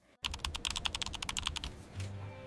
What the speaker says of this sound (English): Behind a desk sat a woman typing on a computer.